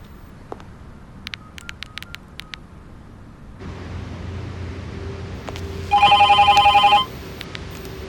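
A telephone rings with an incoming call in one bright, warbling burst lasting about a second, loud over a steady low hum, after a few faint scattered clicks.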